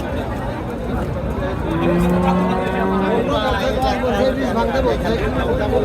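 Cattle lowing amid a busy outdoor livestock market crowd, with a long drawn-out moo standing out over steady chatter and bustle.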